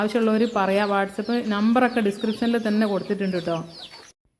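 Black-and-white country hens, a rooster among them, cluck and call close by in a steady run of bursts while a person speaks over them, until the sound stops abruptly near the end.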